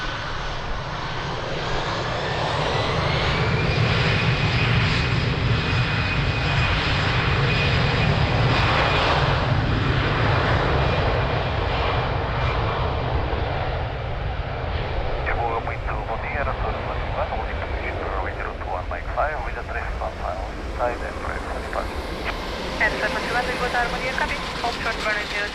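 An airliner rolls and takes off from runway 02 at Lisbon Airport, with a loud sustained jet engine roar that swells, holds and slowly fades, while radio voices talk over it.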